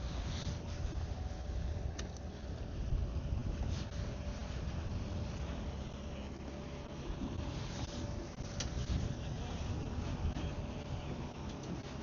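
Steady gusting wind buffets the microphone on a rocky coast during bream fishing, a low continuous rumble with no speech.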